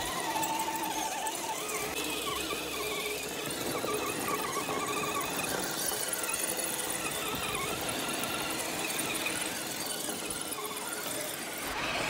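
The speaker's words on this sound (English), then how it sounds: "sorry about the noisy transmission in it. It's getting a bit old and a bit worn" A Axial SCX10 II Deadbolt RC crawler climbs with an old, worn transmission, giving a continuous high whining squeal throughout, loud and close with no talking.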